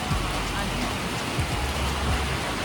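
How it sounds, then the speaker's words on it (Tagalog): Heavy rain pours down in Puerto Princesa, Palawan, a dense steady roar of drops striking surfaces nearby, with faint voices mixed in. "ang lakas ng ulan"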